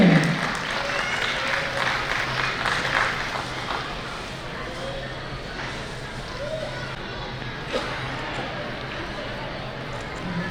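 Audience applause at a Kutch Meena community gathering and biennial convention, a steady broad wash of clapping that carries through the whole stretch, somewhat distant and even, with faint voices mixed in.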